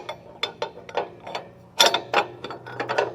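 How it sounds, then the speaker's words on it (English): A ratchet clicks in short bursts as it tightens a nylock nut on a trailer hitch bracket for a Curt TruTrack weight distribution system. The clicking is close and sharp, with brief pauses between the strokes and no voices. "tighten it down with a nylock"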